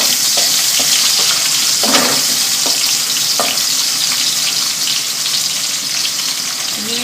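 Garlic and ginger sizzle steadily in a hot pan, a loud, continuous frying hiss broken by a few soft stirring clicks and scrapes, with no one talking.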